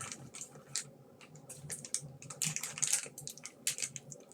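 Crinkly plastic wrapper of a single camembert cheese and fig financier from Japan being torn and opened, a run of close, irregular crackles and rustles with no talking.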